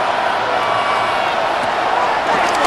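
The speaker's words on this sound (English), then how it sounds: "The crowd cranking it up another notch before 3rd and long." Broadband crowd roar from a simulated NFL stadium crowd in Madden NFL 26, Cowboys versus Broncos, building before a third-and-long play; a steady, loud wash of cheering holds throughout with no pauses.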